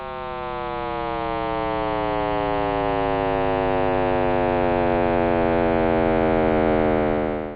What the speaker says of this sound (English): It's called the cosmic microwave background